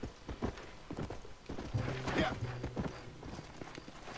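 Horse hooves clip-clop at a steady walking rhythm in the video game Red Dead Redemption, close and moderately loud, with a low tonal hum and scattered game sounds mixed in.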